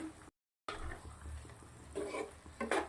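Kasuri methi and kitchen king masala being stirred into chopped spinach and paneer in a pan, a soft, quiet scraping and light sizzle broken by a brief moment of silence, ending with a couple of louder scrapes.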